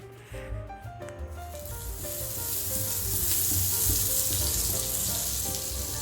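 A vegetable burger patty fries in butter on a dosa tawa, a loud continuous sizzle building and holding close up, with no voices.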